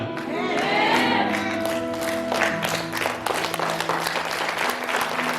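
A church congregation breaks into applause during a worship service, a dense, sustained wash of many clapping hands that swells while a voice or sustained tone rings at the start and the crowd keeps clapping.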